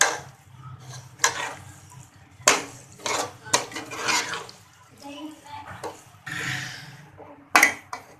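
Chicken being mixed into a masala pasta sauce in a pan, with repeated clanks and scrapes of a utensil against the pan in irregular bursts under a low background hum.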